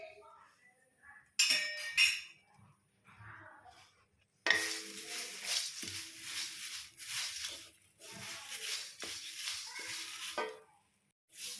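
Dried curry leaves and moringa leaves are dry-roasted in a pan, with rustling and scraping as they are stirred, some clinks against the pan, and intermittent bursts of crackle, heard close while a person talks.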